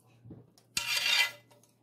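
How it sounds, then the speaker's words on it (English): A metal pan scraped with a utensil while chicken Alfredo cooks, a loud half-second rasp standing alone, bracketed by faint clinks before and after. "Sorry about the scraping of the pan."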